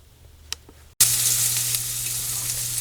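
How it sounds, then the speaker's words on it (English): Burger patties sizzle loudly as they brown in a pan for canned Salisbury steak, a steady close frying hiss that bursts in after a quiet moment and holds continuously with no talk. "So we're getting our burgers browned"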